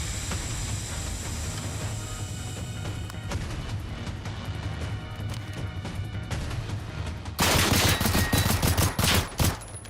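Sustained gunfire in Generation Zero, a steady run of shots under a droning game backdrop, swelling into louder, sharper bursts near the end.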